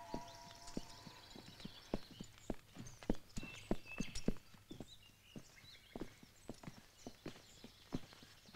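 A horse's hooves clip-clop in an uneven walking rhythm on a hard surface, close by and moderately loud, with no voices.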